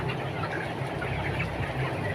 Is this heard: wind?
no